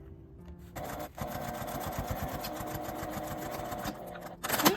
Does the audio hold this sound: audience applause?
no